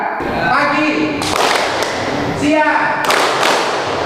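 A classroom of students claps hands on the teacher's cue, with several sharp bursts of group clapping set apart by pauses as a voice talks between them.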